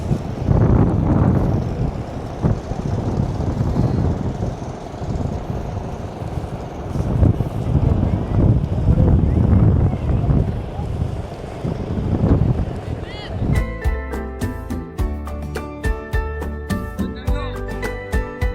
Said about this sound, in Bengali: এখান থেকে আসলে শোনা যাচ্ছে ঢেউয়ের গর্জন